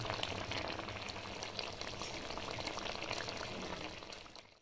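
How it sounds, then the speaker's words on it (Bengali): Shol fish curry in a thin spicy gravy simmers over medium heat, a soft continuous bubbling and light sizzle, faint and steady throughout with no voices. "তাই আঁচটাকে একদম মিডিয়ামে দিয়ে ঝোলটাকে মাছের সঙ্গে ফোটাতে হবে"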